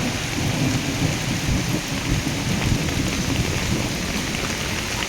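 Heavy rain pours steadily over a roof with rumbling thunder underneath, a dense, loud, continuous wash of sound with no voices.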